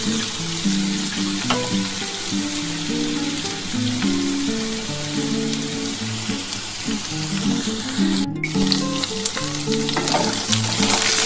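Potatoes and drumstick pieces frying in hot oil in a pan, a loud continuous sizzle with intermittent clatter of stirring, no voices present.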